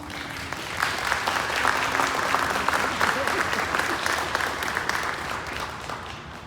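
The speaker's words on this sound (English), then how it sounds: "let's hear a round of applause" An audience at a transit facility dedication ceremony breaks into applause, a dense, sustained round of many clapping hands that swells quickly and holds steady for several seconds.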